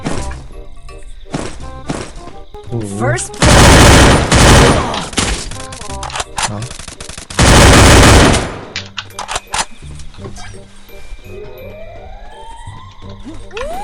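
Heavy automatic gunfire in a first-person shooter game, with dense rapid bursts and loud sustained volleys, then scattered lighter shots and game effects.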